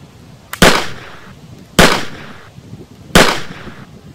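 Three loud gunshots ring out one by one at an outdoor shooting practice spot, each sharp crack followed by a fading echo, about a second and a half apart.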